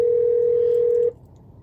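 A steady telephone tone hums loud and unbroken for about a second on a call to a DoorDash phone line, then cuts off abruptly into a quiet hiss.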